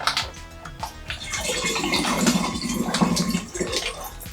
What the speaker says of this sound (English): we're going to add a bit of that warm water we've got over there into the bag and get every last drop of it out